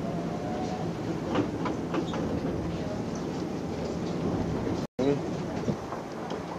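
A train ride in Japan carries a steady low rumble and rattle of the rail car, with faint voices and a brief cut partway through.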